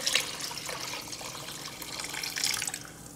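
Water from cups being poured into a slow cooker, a close, continuous splashing trickle with a brief surge near the end and no speech.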